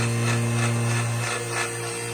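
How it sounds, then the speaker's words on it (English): A vacuum forming machine's air opens while Kydex is shaped around a left-handed Glock 19 for a holster, producing a steady, loud broadband rush with a low hum underneath, easing slightly after a second. "I'll open the vacuum air."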